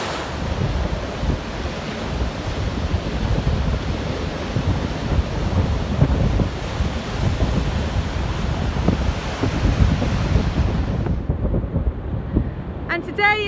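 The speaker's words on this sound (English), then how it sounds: "Really windy conditions and pretty spectacular waves." Ocean waves crash and surge continuously on a very windy seashore, with heavy wind buffeting the microphone in a loud, steady roar that drops away abruptly near the end.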